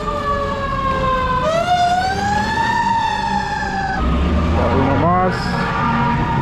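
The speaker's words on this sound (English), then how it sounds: "Let's go ahead and let these fire trucks pass." Fire truck sirens wail close by on a Los Angeles street, rising and falling through a long sweeping tone over steady traffic rumble, with a low horn blast and a sharp yelp near the end.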